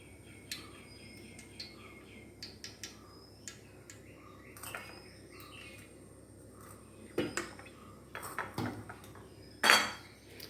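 Metal spoon and pan clinks on a stovetop as coconut oil is poured into a pan for cauliflower thoran, scattered light taps building to a louder clatter near the end, fairly close with no talk.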